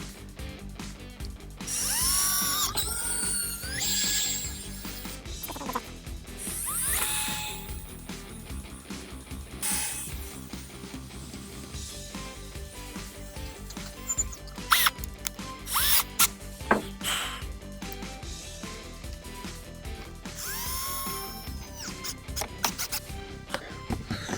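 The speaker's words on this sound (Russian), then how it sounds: "Вкручиваем саморезы не до конца, чтобы они не мешали нам потом установить раму" Power drill driving large self-tapping screws into a timber window frame opening in a frame-built bathhouse, in repeated whirring bursts of varying length with brief pauses, close and fairly loud.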